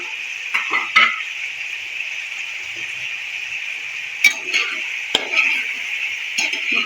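Kebabs and chopped green chilies stirred in a kadai, with soft scraping and a few sharp clinks of a spoon against the pan over a steady light sizzle.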